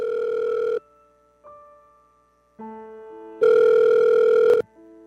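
A telephone in a Filipino drama scene sounds a steady electronic tone in separate bursts with gaps between, clear and close, with no voices over it.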